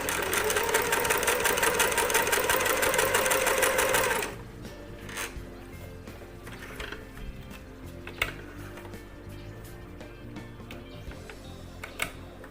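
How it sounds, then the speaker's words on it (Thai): A sewing machine stitches white fabric pieces for a homemade face mask, running fast and loud for about four seconds, then stopping, leaving quieter scattered mechanical clicks and knocks. "ชิ้นที่สองก็เย็บเหมือนกับชิ้นที่หนึ่งนะครับ เย็บประมาณหนึ่งตีนผีครับ"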